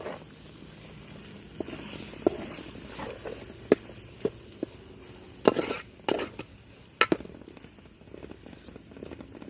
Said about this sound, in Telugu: ఒక 3 మినిట్స్ తర్వాత మనం ఎగ్స్, ఈ రొయ్యలు మొత్తాన్ని కలుపుకోవాలి